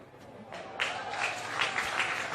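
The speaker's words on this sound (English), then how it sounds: "Bit of crowd support going around here for Oren Ball" Crowd applause at a junior athletics championship, steady clapping that swells after a moment and holds, heard from a distance across an outdoor venue.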